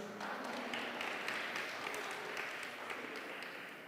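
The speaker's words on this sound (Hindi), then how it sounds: "जोरदार तालियां शाहिद साहब के लिए" Moderate applause from an audience at a church prayer meeting of an Asian fellowship, a soft, steady patter of clapping with a few sharper claps, heard from a distance and fading toward the end.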